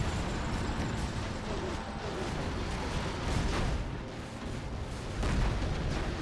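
Heavy explosions from a nuke cannon shell landing in C&C Generals, the blasts rolling into a dense, rumbling wash of battle noise with commentary talking over it.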